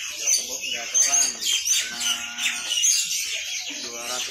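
Javan myna song at a bird market, a run of chirpy, whistled calls close by, heard over and between people talking.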